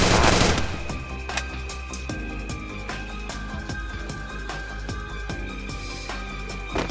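Gunfire in a video game crackles in rapid bursts over a dense, tonal game soundtrack, with a heavy blast at the start and repeated sharp shots throughout.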